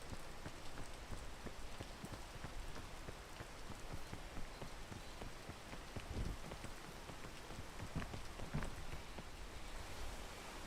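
Rain falling in the video game Peak, a steady, dense patter of drops on surfaces with a few soft thuds and no talking.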